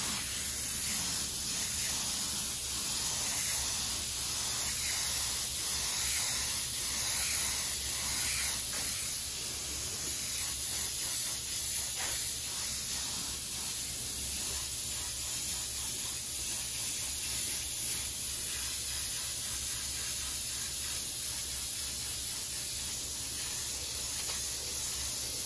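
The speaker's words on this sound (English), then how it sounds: "So we're going to do coats kind of light. Like a medium wet. It's really only going to take a pass or two." A spray gun lays medium-wet coats of Oriental Blue custom lowrider paint, giving a continuous close hiss of airflow and atomized paint that swells slightly with each pass and runs steadily for about 25 seconds without speech.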